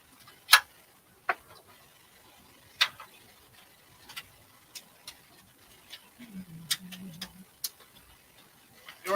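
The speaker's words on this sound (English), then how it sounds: "You're on the old webcam mic, which is probably picking up my ticking time bomb of a CPU fan." An aging computer CPU fan, picked up by a webcam microphone, gives sharp irregular ticks and clicks against a quiet background, with a brief low hum partway through.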